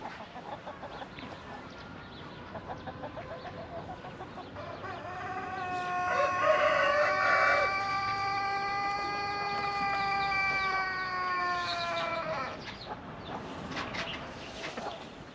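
A young seven-month-old rooster crows once in a hobby coop, a long drawn-out call lasting several seconds, fairly near, with soft farmyard ambience before and after.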